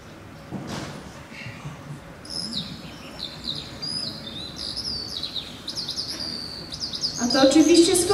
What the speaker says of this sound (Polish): A to oczywiście skowrony.